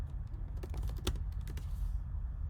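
Keys clatter on a computer keyboard in a quick, uneven run of close, soft taps, with a low background hum and no talking.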